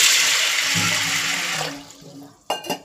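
Water pours steadily into a pressure cooker holding lentils and black-eyed peas, a loud close rushing stream that tapers off, followed by two brief knocks.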